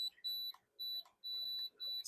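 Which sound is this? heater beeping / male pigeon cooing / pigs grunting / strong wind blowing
heater beeping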